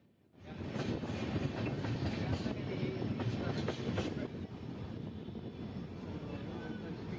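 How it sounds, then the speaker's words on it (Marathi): Train pulling into Parbhani junction on the Nanded–Mirkhel–Parbhani line, a steady loud rumble of rail cars rolling in that sets in after a quiet start and continues throughout, with no talk over it. "ट्रेन ही परभणी जंक्शन वर आली आहे"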